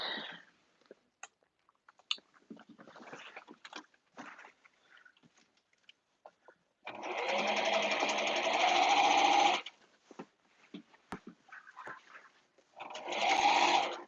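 A serger runs up a caftan hem in two bursts: a long steady whirring stretch in the middle and a shorter one at the end, separated by quiet handling and fabric rustle.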